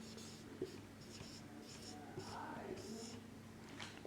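Pen scratching across paper in short repeated strokes during a Hindi handwriting lesson on writing letters, close and fairly quiet over a steady low hum.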